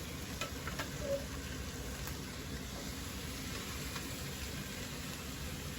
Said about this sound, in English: I'm going to add a can of diced tomatoes